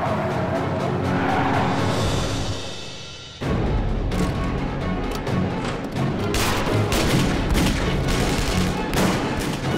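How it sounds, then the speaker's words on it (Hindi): A car approaching during a bank-heist action movie scene, its loud, steady engine roar filling the scene, broken by sharp bursts and skidding-like noise. "एक कार आ रही है।"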